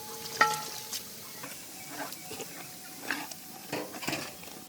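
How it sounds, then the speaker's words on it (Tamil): Ground masala paste added to a pan and frying, a soft sizzle under repeated scraping and stirring strokes of a utensil against the metal pan, close and moderately quiet, without speech. "அரைச்சி வந்த மசாலா அரை சேர்த்துக்கிறண்ணா"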